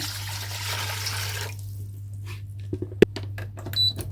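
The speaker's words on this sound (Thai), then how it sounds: "เทน้ำลงไปในหม้อต้มได้เลยค่ะ" Water poured from a container into a cooking pot while making a date, honey and lemon drink: a steady rushing pour with a low hum under it, then a sharp clink and a few small splashes as it tails off.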